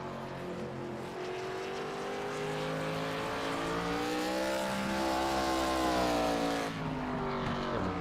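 ARCA race cars lap North Wilkesboro in practice, engines droning loud and continuous as a car's pitch climbs and falls while passing, with other motors layered in the distance.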